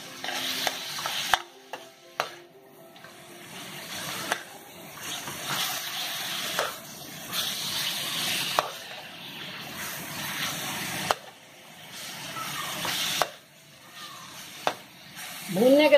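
Chicken pieces sear in a pan, a steady sizzle broken by stirring clatter and scraping, close and moderately loud, with a brief watery rush near the end.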